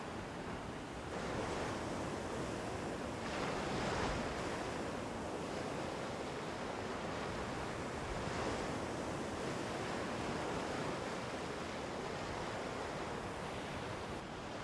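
Ocean waves break steadily on the beach at Tangalle, Sri Lanka, a continuous roaring surf with rolling swells and some wind, heard alone with no talking.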